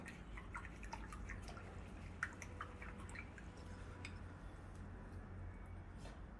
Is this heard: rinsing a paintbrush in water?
yes